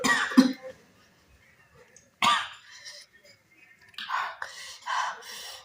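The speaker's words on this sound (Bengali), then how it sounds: "লঙ্কার গুঁড়া খাইলে কাশি আসছে মনে হয়।" Bursts of coughing and throat clearing from a person who has just eaten chili powder, a sharp fit near the start, another at about two seconds, then breathy rasping coughs toward the end with quiet pauses in between.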